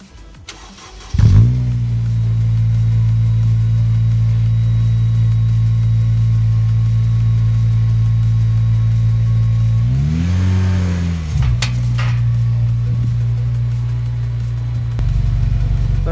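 A Honda Civic Type R EP3 fitted with a Japspeed cat-back exhaust starts with a sharp crank, settles into a loud, steady idle, gives one rising and falling rev, then returns to a deeper idle.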